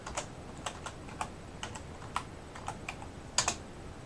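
Someone types on a computer keyboard nearby, with scattered single keystrokes and a quick double tap near the end. The pauses between keys are uneven, and the desk is otherwise quiet.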